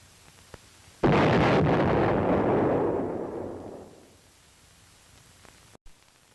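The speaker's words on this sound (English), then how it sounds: "unit commanders may call in artillery or high-angle weapons to demolish tunnel entrances" An artillery explosion demolishing a tunnel entrance in wartime Vietnam, one sudden loud blast followed by a long rumbling decay, heard amid faint hiss with a couple of small pops nearby.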